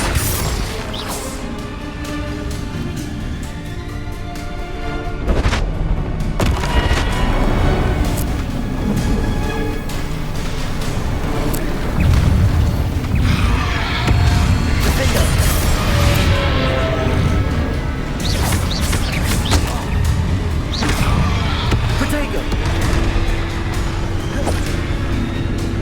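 Spell-casting explosions in Hogwarts Legacy, with dense booms, crashes and whooshing blasts coming one after another, loud and continuous over a busy game soundscape.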